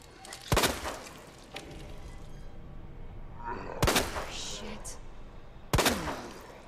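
Gunfire in Resident Evil 2 comes as three loud, sharp shots spaced a second or two apart, each ringing off with a short decay, with quieter game ambience and faint talk between them.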